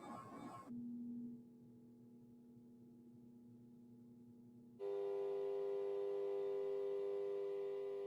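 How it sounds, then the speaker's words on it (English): A steady low drone, a faint low-frequency diesel-engine-like hum, holds for several seconds, then a louder, richer hum with layered tones takes over and continues to the end. "The sound that we're hearing started off as a very faint low frequency diesel engine sound."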